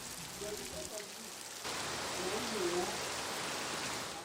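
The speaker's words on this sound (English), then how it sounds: "nature finally had its way as it begins to rain in torrents" Torrential rain falls on cocoa farmland in Nigeria, starting as a softer patter, then swelling abruptly into a dense, loud, steady downpour.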